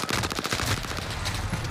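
Grau rifle firing in a first-person shooter game, a fast rhythmic automatic burst of close, loud shots repeating evenly throughout with no voices.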